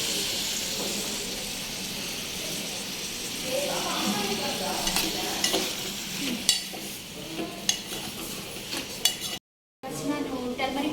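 Mushrooms frying in a pan for mushroom gravy in a small shared-lodging kitchen, with a constant sizzle under repeated stirring scrapes and metallic clinks of the spoon, then a brief moment of total silence before the frying resumes.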